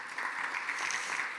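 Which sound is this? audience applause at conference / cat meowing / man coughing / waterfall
audience applause at conference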